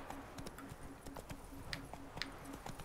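Horse hooves clip-clopping in a video game, a steady rhythmic trot of sharp knocks at moderate distance, with a faint voice now and then.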